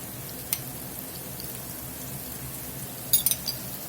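Garlic and Creole Cajun seasoning fry in fat for Southern fried cabbage, a soft, steady sizzle under a few light clinks of a utensil against the pan.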